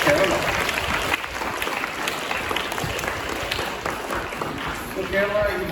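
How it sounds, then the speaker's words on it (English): A hall audience applauds Kerala during a discussion with a former Bristol mayor, producing dense, loud, continuous clapping that fills the whole stretch and swells slightly near the end. "Give a big round of applause out to Kerala."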